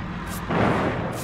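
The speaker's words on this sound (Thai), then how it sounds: "ปั่นคนเดียวยังระเบิดได้อีก" A generator exploding in Dead by Daylight, a dull heavy burst that swells to a broad, noisy boom and lingers over steady game ambience.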